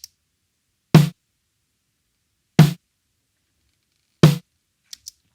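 Three evenly spaced snare drum hits with a dynamic EQ boosting the attack, sharp and punchy, ringing briefly and separated by silence.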